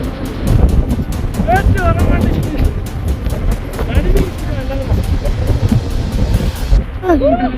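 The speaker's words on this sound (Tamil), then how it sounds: "இதுவரை நம்ம பார்க்காத கொடூரமான காற்று வந்துருக்கு" Fierce wind buffets the open summit of Meesapulimala peak during a mountain trek, roaring and rumbling loudly against the microphone while people talk over it.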